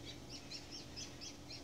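Mother bird with a brown belly carrying food, chirping in a steady series of about six short, high tweets, faint and somewhat distant, with no voices.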